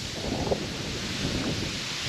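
Steady wind rushes and rustles across the microphone in a constant, broad roar with slight gusting swells.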